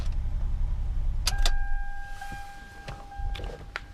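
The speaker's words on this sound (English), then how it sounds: "Engine still running." A 2009 Toyota Sienna with a 3.5 L engine idles at a low, steady rumble, joined by a couple of brief clicks and thin tonal whines partway through.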